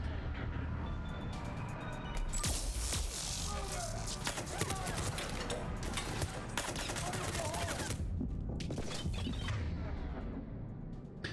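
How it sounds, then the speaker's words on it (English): Grenade blasts and rapid gunfire from a Mass Effect 3 combat scene, set during the Citadel shore-leave mission, form a dense, continuous barrage of bursts and booms, loud throughout, with speech over the noise. "That's kind of more grenades than I like."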